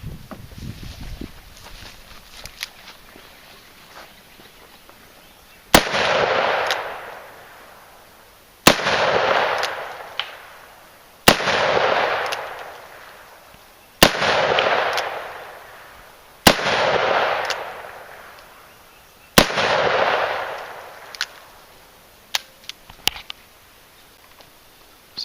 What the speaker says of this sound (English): now we have the Ruger Super Redhawk 44 Magnum